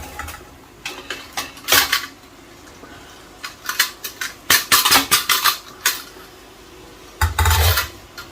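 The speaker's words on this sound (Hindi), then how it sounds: "तो अभी मैं इसमें शामिल कर दूंगा चावल।" Rice is tipped into sugar syrup in a pot and stirred, with a metal spoon clinking and scraping against the pot in irregular bursts, close and fairly loud.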